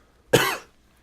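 A single sharp cough, close and loud, rises from silence and fades after about a quarter second during a podcast recording about drones and cameras, with no talk around it.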